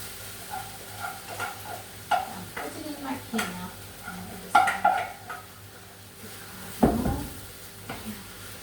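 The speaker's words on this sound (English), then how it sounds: "I'm putting in my quinoa." Quinoa is added to a cooking pot on a home stove, with scattered rattles, scrapes and taps against the pot over a faint sizzle, close and intermittent.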